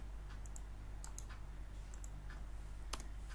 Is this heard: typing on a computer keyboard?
yes